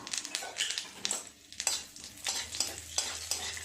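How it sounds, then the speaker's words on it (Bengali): Cumin seeds and a dried red chilli tempering in a mix of oil and butter are stirred in a pan, giving a steady close sizzle broken by repeated scraping strokes of the spoon. "ফোড়নটা একটু নেড়ে চেড়ে নেব"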